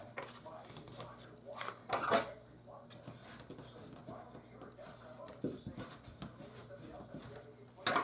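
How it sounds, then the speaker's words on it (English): A bone folder presses and rubs along the glued sides of a paper gift box, making soft scraping and tapping sounds in short bursts, close and quiet, with someone speaking between them. "I'm going to take my bone folder and just press that down really well"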